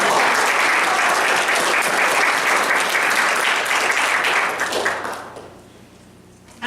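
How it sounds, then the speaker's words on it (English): An audience at a church service breaks into a full, steady round of applause, dense and sustained before tapering off and fading near the end, with no talk over it. "Let's give her a round of applause"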